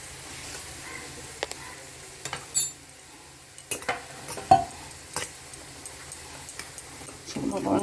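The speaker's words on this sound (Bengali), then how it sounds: "মিশিয়ে নিচ্ছি ভালো করে" Spiced banana blossom cutlet mixture being mixed by hand in a bowl, with soft scattered scraping and clinking taps of varying loudness over a quiet kitchen background.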